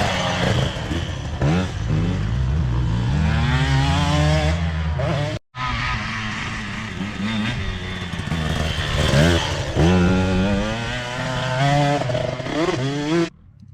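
Motocross motorcycle on a dirt track, its engine loud and close, revving through rising and falling gear changes with a brief cut near the middle before it roars on again.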